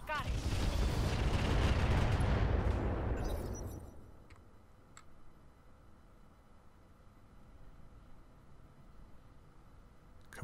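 Mech weapons fire in the Roguetech video game: a loud, sustained barrage of booming blasts for about four seconds, then fading into a low rumble with a few faint distant pops.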